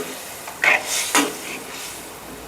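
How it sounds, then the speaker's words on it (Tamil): A few scraping stirs in a pan of frying mutton and liver over a soft sizzle, with a clatter of a utensil against metal, close by and otherwise quiet. "நல்லா மிக்ஸ் பண்ணிவிட்டு கொதிக்கட்டுங்க."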